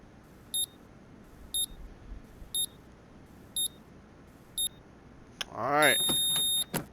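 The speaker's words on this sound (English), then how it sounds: "That loud beep lets us know that we are all clear." A Car Mechanic Simulator 2021 scan tool chirps five short, evenly spaced beeps about a second apart, then a longer, louder tone marks the all-clear, with a voice briefly speaking over the end.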